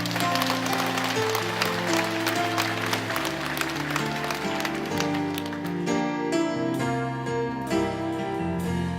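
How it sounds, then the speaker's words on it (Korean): A congregation claps at a Korean church prayer gathering, with quick, rhythmic handclaps running under loud organ and worship music throughout. "오늘 우리에게도 승리를 주신 하나님께 우리 큰 영광의 박수 올려드리겠습니다."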